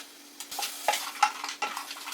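Vegetables sizzle and crackle in hot oil in a pan as they are stir-fried, with soft scraping bursts every half second or so.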